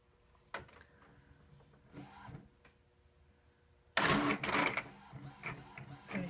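Home printer feeding and printing a doily backer card: faint mechanical whirring and clicks at first, then a louder burst of rolling, rattling print motion.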